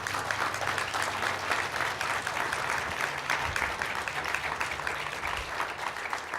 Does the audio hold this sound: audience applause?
yes